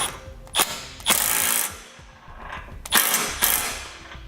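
A tow hook bolt is tightened on a Roadmaster crossbar-style base plate with a ratchet: several short bursts of clicking ratcheting, near and loud, in quick groups with brief pauses between.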